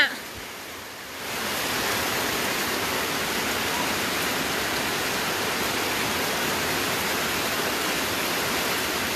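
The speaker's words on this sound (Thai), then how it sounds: "ตอนนี้พิกัดบ้านสูบน้ำมาเร็วมากฝายขาด" A constant heavy roar of floodwater rushing from a broken weir fills the clip after a brief quieter start, loud and unbroken like a torrent.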